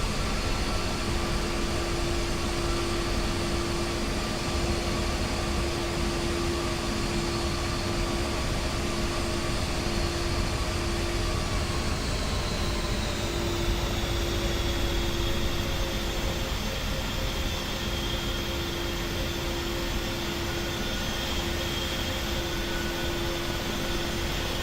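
An A-10 jet's engines in the DCS flight simulator, a steady loud turbine whine and roar with tonal hum that holds throughout and shifts pitch slightly partway as the engine spools, with no talking.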